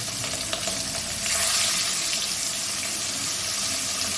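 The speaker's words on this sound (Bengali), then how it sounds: "একটা করে মাছ আমি দিয়ে দেবো। আগে সব মাছগুলো ভেজে নেবো" Fish frying in very hot oil in a wok, a steady broad sizzle and hiss that swells slightly after the first second, running continuously without talk.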